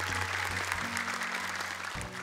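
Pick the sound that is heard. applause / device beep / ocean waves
applause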